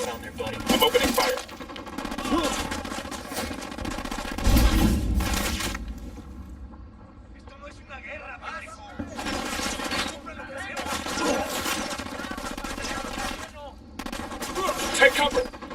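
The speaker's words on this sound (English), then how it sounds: "I'm opening fire." Gunfire bursts in the Ghost Recon Wildlands video game, loud repeated shots and volleys over several seconds mixed with game sounds and background voices.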